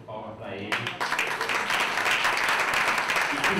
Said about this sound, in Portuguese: Então, peço uma salva de palmas para ele.